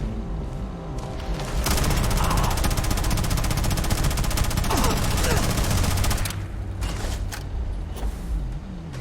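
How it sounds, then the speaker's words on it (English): Sustained rapid gunfire from enemies opening fire in the video game Starfield, a dense loud barrage lasting several seconds over game ambience with a low rumbling background. "Opening fire!"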